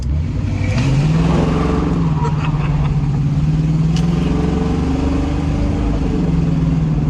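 A Pontiac Firebird Trans Am engine revs up and pulls away, a loud deep rising drone that holds steady and then climbs again as the car accelerates up close.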